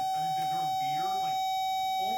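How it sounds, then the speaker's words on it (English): A power probe acting as a buzzer hums steadily while a key minder switch circuit on a 1969 Camaro is tested, a constant tone sounding under someone talking throughout. "the power probe is my buzzer now, testing the circuit and also giving me the sound"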